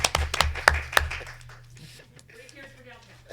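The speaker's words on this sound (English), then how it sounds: "Now you may clap" A handful of people at a Luray town council meeting clap briefly. A few sharp, scattered claps in the first second quickly die away, and voices continue talking quietly afterward.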